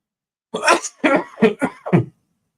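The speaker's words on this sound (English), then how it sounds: "Oh, this cough is going to kill me." A person coughs five times in quick succession, harsh and fairly close, with short gaps between the bursts and no talking.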